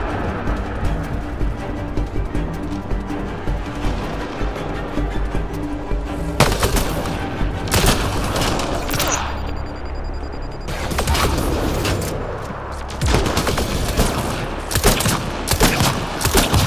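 Rapid automatic gunfire from the Mass Effect: Andromeda video game, sustained and loud with dense bursts and brief pauses between volleys, alone without talk.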